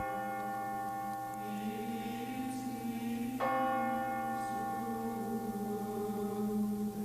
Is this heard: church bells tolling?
yes